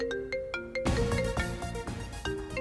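A telephone rings with a melodic ringtone, a series of short repeated tones that give way to a fuller, busier pattern of electronic notes, fairly loud with no speech over it.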